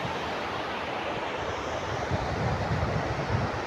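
Sea waves roll in at Dagara beach, a steady roaring surf mixed with wind buffeting the microphone, continuous and fairly close, with low rumbling swells building toward the end.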